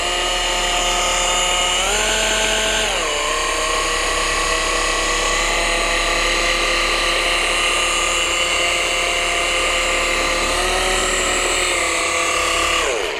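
A machine polisher spreads ceramic polish over car paint with a loud, continuous whirring whine that shifts pitch slightly as pressure changes, running alone without pause.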